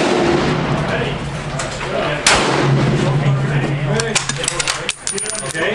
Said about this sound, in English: So first shot of the S20 from the Sako.